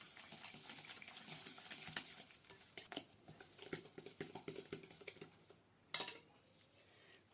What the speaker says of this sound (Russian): В миске соединяю яйцо и сахар. И хорошенечко это все перемешиваю.